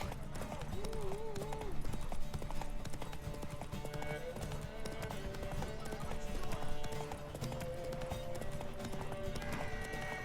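Steady clip-clop of horse hooves at a gallop in The Witcher 3 video game, mixed with game music and shouting voices, with a brief whinny near the start.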